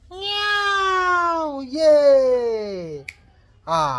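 A voice imitates a cat, giving two long, drawn-out meows in a row, then a short sharp click and a brief final meow, loud and close in an otherwise quiet setting.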